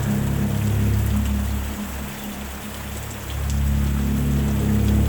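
Heavy rain on a mountain road, a dense continuous wash of falling water with a low rumble underneath, loud and close, dipping briefly in the middle before swelling again.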